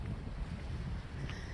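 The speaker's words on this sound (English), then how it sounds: "it's kind of cool and a little windy today" Wind at a lake beach at Big Arm Park, a steady low rumble of gusts buffeting the microphone, filling the short stretch without speech.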